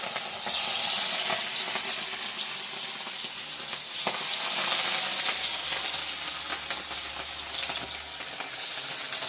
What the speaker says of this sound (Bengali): দুবারে মাছটা ভেজে নেবো, একবারে ভাজবো না